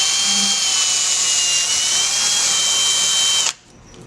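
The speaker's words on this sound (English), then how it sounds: "And I just drill it right out." Power drill spinning a 1/8 inch bit as it bores through a pot, a steady high whine held close and loud for about three and a half seconds before stopping abruptly.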